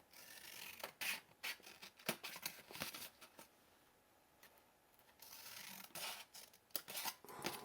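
Paper snipped with scissors while cutting a single cell out of a folded paper rose, heard as a quick series of crisp close-up clicks and cuts in irregular bursts, with a short pause partway through.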